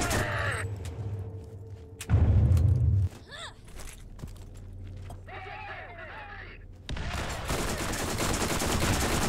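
Combat in the Borderlands game, with bursts of gunfire, a heavy booming blast and scattered sharp shots amid shifting game effects and creature-like cries, loud and chaotic.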